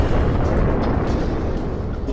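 A massive asteroid impact explosion renders as a dense, loud, rolling roar of broadband rumble that sustains without a sharp break and eases slightly toward the end.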